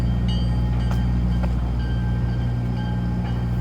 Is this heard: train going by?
yes